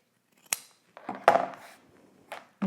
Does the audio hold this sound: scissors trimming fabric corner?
yes